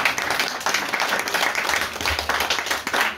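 Audience at a conference applauding, a steady dense patter of many hands clapping throughout, fairly loud and close.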